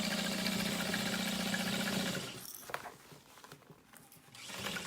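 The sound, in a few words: sewing machine sewing straight across backpack bottom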